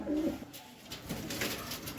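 Black Chinese pigeons coo softly, with one low throaty coo near the start set against a steady background hiss.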